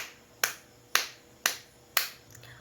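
A class in a classroom claps together in four crisp, evenly timed claps, each ringing briefly before the next, with no talking.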